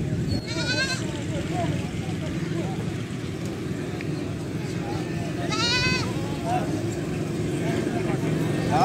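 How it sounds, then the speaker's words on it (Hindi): Goats bleating at a livestock market in Faisalabad, with two short wavering calls rising above a steady crowd murmur and background bustle. "खूबसूरत बकरी आ देख"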